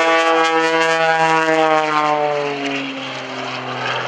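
Aerobatic propeller airplane flown at an airshow through snap rolls, outside loops and rolling sequences; loud, steady engine drone with a strong low hum whose pitch slowly sinks over a few seconds, no talk.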